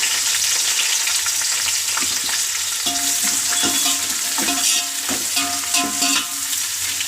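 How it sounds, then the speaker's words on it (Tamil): Onions fry in hot oil for vegetable biryani, a loud continuous sizzle with crackling pops and stirring clinks of a utensil against the pan, close up with no talking. "எண்ணெய் சூடாயிடுச்சு. இப்போ இதெல்லாம் சேர்த்துக்கலாம். இப்போ வந்து வெங்காயம் சேர்த்துக்கலாம்."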